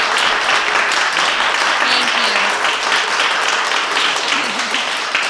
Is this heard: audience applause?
yes